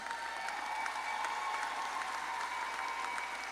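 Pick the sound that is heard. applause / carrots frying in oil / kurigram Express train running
applause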